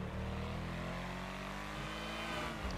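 Engine of an 8F Drafter, an Audi RS5 coupe modelled in GTA 5 Online, revving hard with a dense, steady roar that holds loud and close for the whole stretch, no voices over it.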